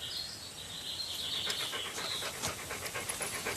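Dogs panting close by, a steady fast breathy rhythm with no talk over it.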